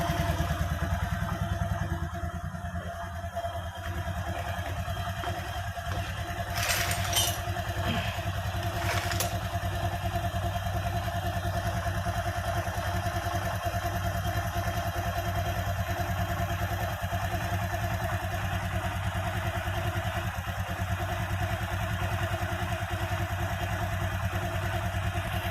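A Megapro motorcycle engine fitted with a Honda CB100 timing chain idles steadily and evenly up close, heard from the left side near the chain, with a couple of brief clicks partway through.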